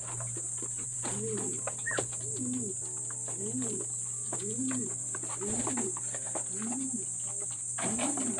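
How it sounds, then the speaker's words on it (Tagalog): Pigeons coo in a series of soft, rounded, repeated calls at a moderate distance, spaced every second or so over a constant background hum, with a brief higher chirp early on. "Dami, mga kalapatids."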